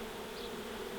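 Honey bees cluster on a box during removal of a hive from a garage wall, a soft steady buzzing hum, faint and unbroken over a short moment.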